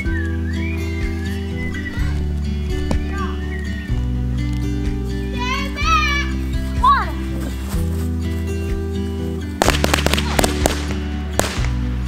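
Firecrackers go off in a quick burst of sharp pops near the end, over steady background music, whistling and people talking.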